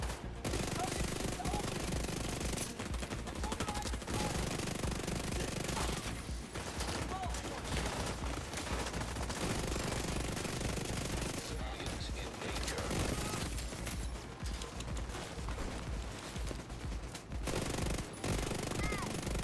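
Gunfire crackles in The Division 2, a dense, sustained stream of shots that runs steadily and loud throughout, with a voice talking underneath.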